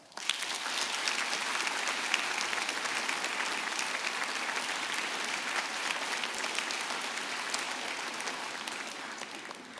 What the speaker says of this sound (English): we welcome them with an applause